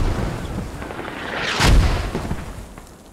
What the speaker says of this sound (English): Great call for the mortar strike.